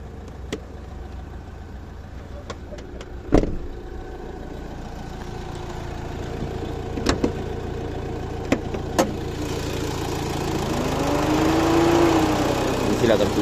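A 2015 Fiat Ducato nine-seat van idles under the open hood with the air conditioning running and its cooling fan on, a steady engine drone with a few sharp clicks.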